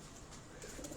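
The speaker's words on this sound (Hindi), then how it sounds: "ये बोल रहा है कबूतर।" A pigeon in a breeder's loft coos softly, a few low, muffled calls set against a hissy, noisy background.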